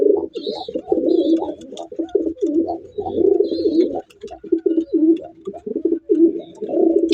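Pair of white grizzle pigeons cooing repeatedly in close, throaty bursts, with brief pauses between calls and a few faint higher chirps behind.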